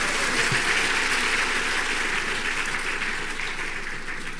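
Applause from a church congregation during a pastor's sermon, a dense steady wash of many hands clapping that fills the room and tapers off slightly toward the end, with no talking.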